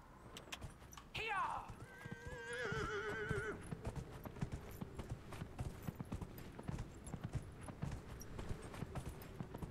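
A pony's hooves clip-clop steadily in the Dragon Age Inquisition video game, with a whinny near the start, continuous rhythmic hoofbeats close and moderately loud over faint background.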